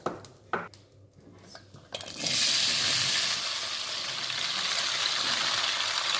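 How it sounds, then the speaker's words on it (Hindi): Okra (bhindi) dropped into hot oil, a few clinks of utensil against the pan, then a sudden loud, steady frying hiss that continues close up to the end. "भिंडी फ्राई कर लेंगे पहले इसको हम तेल में।"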